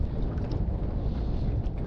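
New four-stroke outboard motor running on a boat, heard as a steady, fairly quiet low hum mixed with water wash and wind buffeting the microphone.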